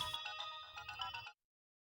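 A phone ringtone plays a short bright electronic melody, then cuts off abruptly into silence.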